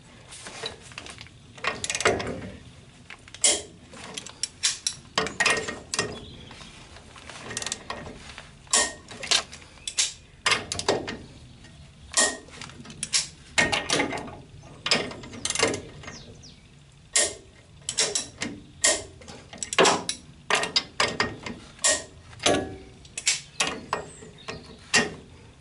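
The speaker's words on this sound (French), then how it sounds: "je règle ma clé dynamométrique à 5 kg" Torque wrench set to 5 kg tightening the eight chassis bearing screws on a Citroën Traction 11B rear axle: a long run of sharp ratcheting clicks in bursts, close and fairly quiet, with no talk.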